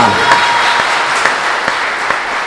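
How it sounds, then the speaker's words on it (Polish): Loud, dense audience applause at a safety-day gala in Celestynów for the winning youth fire brigade team, a steady wash of many hands clapping close by, with no talking over it. "Wielkie brawa!"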